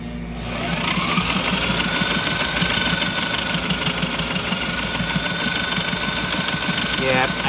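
A Sailrite sewing machine stitches a zigzag seam on cargo shorts, a steady, loud mechanical hum with a fast rhythmic clatter that starts up and runs continuously.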